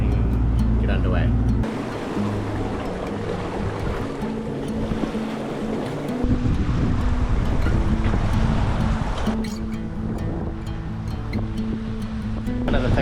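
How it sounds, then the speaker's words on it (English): A sailboat motors out of an anchorage bay in Vanuatu, its steady engine drone and water wash running loud and continuous, with a brief shift partway through. "So we're just leaving the anchorage now, we're just motoring out of the bay."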